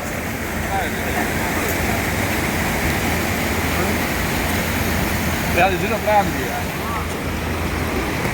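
Floodwater runs after heavy rain in Makkah, a continuous broadband rush and roar that holds steady throughout, with brief faint voices partway through.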